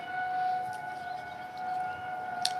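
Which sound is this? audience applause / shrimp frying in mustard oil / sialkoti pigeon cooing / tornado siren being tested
tornado siren being tested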